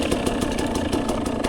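A dirt bike engine runs steadily at idle, close by, with an even, throbbing mechanical rhythm and a faint knocking texture throughout, no voices over it.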